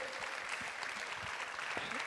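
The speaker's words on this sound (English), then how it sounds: "A round of applause for Shivani" A crowd applauds a research scientist as she stands, giving a sustained, fairly quiet roomful of clapping at an even level with a few louder individual claps near the front.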